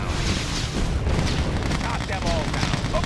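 Booming explosions and rattling gunfire from Red Alert 2 battle, a dense rumbling barrage with repeated blasts, mixed under brief spoken game voice lines.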